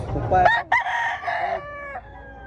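A rooster crows loudly up close at a chicken expo in Tabunok, Talisay, Cebu, its call rising and stretching out before breaking off, with a few clucks around it.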